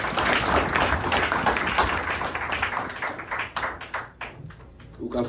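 A church congregation clapping together during worship, dense rhythmic applause filling the space, thinning into scattered claps toward the end, with voices mixed in.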